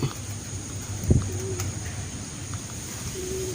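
A racing pigeon arrives at its loft after a race from Candelaria, Quezon to Silang, Cavite, giving soft low coos near at hand over a steady background hum, with a brief thump of movement early on.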